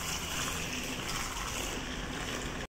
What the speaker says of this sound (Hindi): चालू कर दिया मम्मी ने पानी।